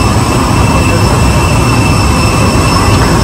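Inside the cabin of a budget airliner on a flight to Jakarta, the jet engines give a loud, constant roar with a steady high whine above it.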